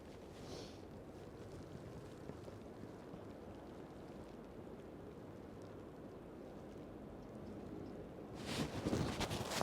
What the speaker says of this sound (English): The wind is really gusty.